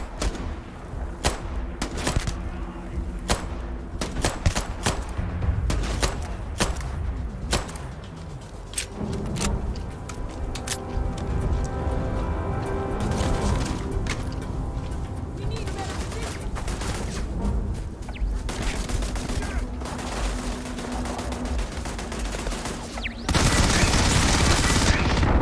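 Turret gunfire in the Starfield video game: rapid bursts and sustained automatic shots crackle loudly with thuds and booms, dense and continuous, ending in a heavier roar.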